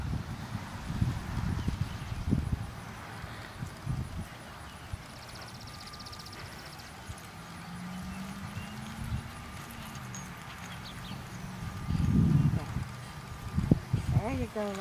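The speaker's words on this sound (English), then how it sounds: "That's what you call a gorgeous horse." Horse walking outdoors, hooves clip-clopping faintly and unevenly under wind, with a brief louder patch of steps near the end and quiet spoken voices nearby.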